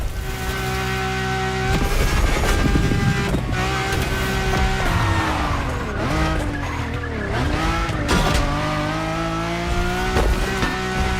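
In the racing game The Crew Motorfest, a car screeches through a corner with loud, sustained tire squeal and a roaring, shifting engine, marked by harsh bumps and scrapes as it loses control and hits something.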